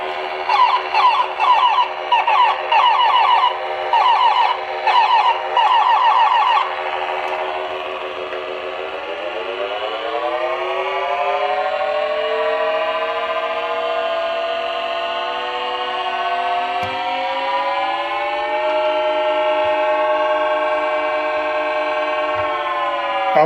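A 1978 Milton Bradley Star Bird electronic toy spaceship lets out a pulsing beeping burst, then a long, loud, wavering synthetic whine that swoops upward and holds like a siren.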